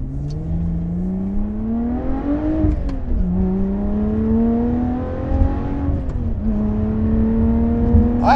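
A Lotus Evora 400 with a Toyota-derived V6 revs and accelerates hard through several gears, each pull rising in pitch before a quick shift drops it back, loud and close from inside the car.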